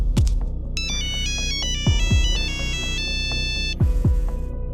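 An electronic phone ringtone rings over and over without being answered in a Hindi cartoon story, a bright, loud melodic tone with rhythmic pulsing beats underneath.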